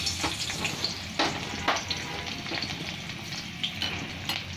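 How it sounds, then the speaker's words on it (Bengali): Chopped garlic dropped into very hot oil in a kadai, a loud continuous sizzle with crackling pops and occasional stirring scrapes, no voices. "তেলটাও খুব গরম, কড়াও গরম। রসুন কুচিটা দিয়ে দিলাম,"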